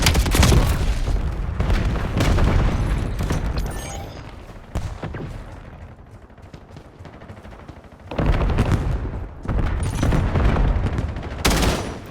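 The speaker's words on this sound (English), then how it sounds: "Grenade going out" A grenade goes off during a Hardpoint match in Call of Duty Black Ops 7, heavy booms landing amid bursts of rapid gunfire that fade briefly before the shooting swells again.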